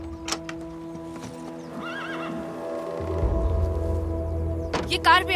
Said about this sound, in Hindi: यहाँ एक घोड़ा है।